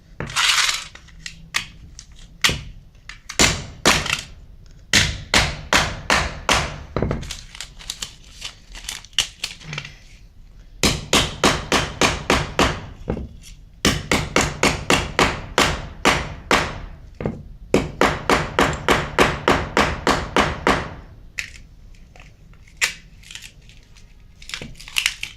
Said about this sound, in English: let's bring out the hammer and see what's inside the screen.